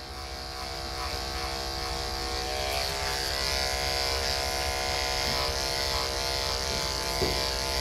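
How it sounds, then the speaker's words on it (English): An electric clipper shaves a dog's long, overgrown coat, giving a steady, close buzzing drone that runs unbroken throughout with only slight changes in pressure. "how much pressure to apply to your clipper"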